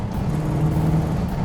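Car pulling hard in third gear, a loud, close engine roar holding a steady low drone that swells slightly over the short burst.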